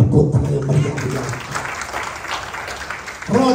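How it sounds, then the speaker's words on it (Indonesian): A church congregation applauds warmly during a sermon, a steady wash of clapping that carries through the hall with a voice over it near the start and again at the end. "Beri tepuk tangan yang meriah"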